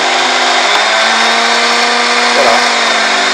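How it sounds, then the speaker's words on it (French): A Moulinex Masterchef 520 Classic food processor, just repaired, runs its motor on speed 1 with a loud, steady, close whirring hum that holds without pause for the whole stretch. "Après je le mets sur la position 1. Donc on entend le moteur."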